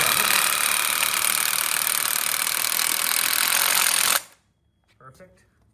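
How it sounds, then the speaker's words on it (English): A loud, steady high-pitched drill whine runs for about four seconds as it drives self-drilling screws into an outdoor kitchen corner frame, then cuts off abruptly, leaving near silence with a faint short rustle. "We're using self-drilling screws to screw it in together."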